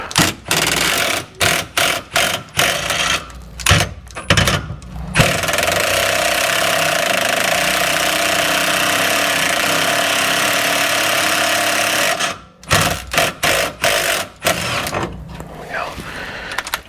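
A power tool trigger pulled in short bursts and then held to break loose the rear sway bar bolts on a Mazda 6, the loud buzzing impact rattle running alone and close in the garage.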